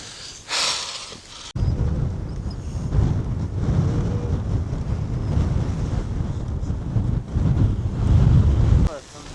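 Blizzard wind sweeps across snowy Lake District fells, roaring hard against the microphone in a loud, steady rush that cuts in abruptly after a short quieter opening and keeps surging in gusts to the end.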